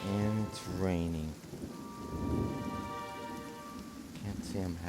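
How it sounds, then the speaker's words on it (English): Rain from the Pillars of Eternity video game forms a soft, steady patter in the background, while short voiced bursts at the start and end sit over it. "And it's raining."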